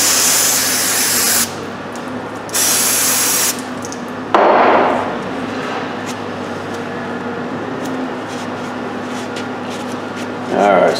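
Spray from a can or nozzle cleans a plastic engine part from a Jeep 4.7 engine in two loud, steady hissing bursts followed by a shorter one, then fades to quieter background as someone talks.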